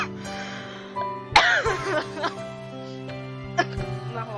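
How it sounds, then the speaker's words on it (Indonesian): A single sharp cough bursts out over soft background music in an Indonesian-language playthrough of a dating game, followed by a few smaller throaty sounds. "Langsung batuk."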